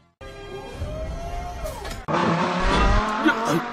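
A stop-motion toy car speeds off with a rising engine whine, then breaks into a louder burst of revving and skidding tire screech that holds to the end.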